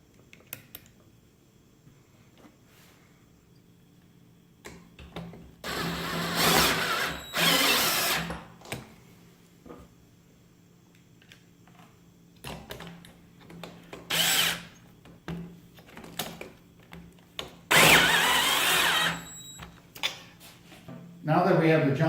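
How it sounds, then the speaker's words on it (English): A power drill drives self-tapping screws into a metal junction box on a lift table scale, several short whirring bursts of varying length separated by pauses, with clicks and handling noise between them. "we're going to secure it with 2 self-tapping screws"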